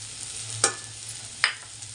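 A spoon scrapes twice through karda greens with salt and crushed peanut powder in a pan, two short sharp strokes over a low steady hum, no voices.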